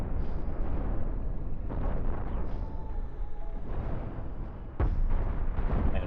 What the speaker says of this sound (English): nicely set up a ton of deck cannon shots